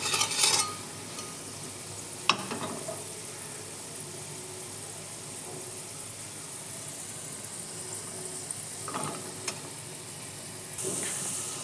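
Low, steady hiss of potatoes frying in oil, with a few sharp clinks and scraping stirs scattered across a long quiet stretch.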